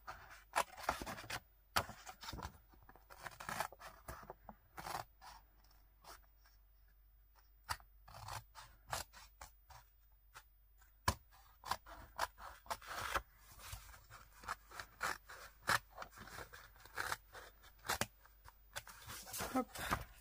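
Scissors cutting paper close to the edge for a scrapbooking project, with repeated crisp snips and rustling paper handling in quick irregular bursts, plus brief quieter pauses.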